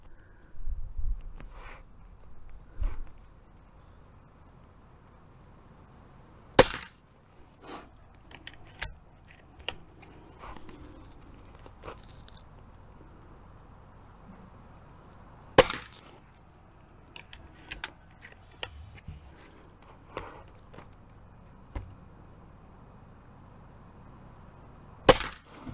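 A Umarex Notos air rifle fires pellets at targets 30 yards out, giving three sharp, loud cracks spaced several seconds apart, with softer clicks and handling noises in between.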